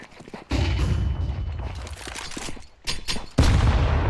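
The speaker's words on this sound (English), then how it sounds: "I'm throwing a flashbang." A flashbang grenade and gunfire in a first-person shooter, with loud bursts of shots and blasts cutting in and out between brief quieter gaps, the last burst heavy and close.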